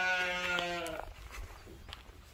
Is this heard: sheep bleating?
yes